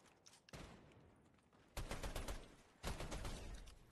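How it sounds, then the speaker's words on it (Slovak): Bursts of rapid gunfire in a multiplayer shooter video game, two loud, dense volleys with a quieter stretch before them and no talk over them. "Niekto tu zase strieľa."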